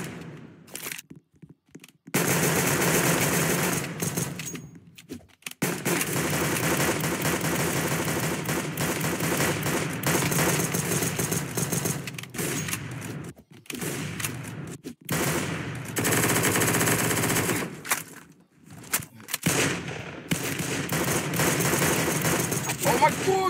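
Automatic gunfire from a video game, sustained machine-gun bursts that fill most of the stretch, broken by a few short pauses, loud and up close with some game noise mixed in.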